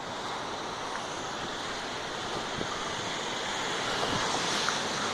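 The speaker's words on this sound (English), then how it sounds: "That is a full-on overflow from this river here." Floodwater from an overflowing river rushes across a road in a steady, broad wash with wind buffeting the microphone, constant and fairly faint throughout.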